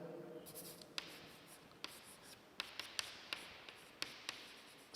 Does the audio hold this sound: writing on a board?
yes